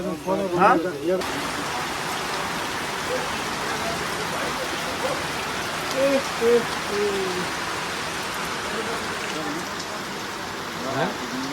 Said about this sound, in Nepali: अहिले हामीलाई पानीले अलिकति रोकेको अवस्था छ